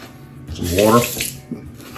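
Tap water running into a sink in a short gush that swells and then cuts off, close and fairly loud, with splashing as a face is wet during a straight razor shave.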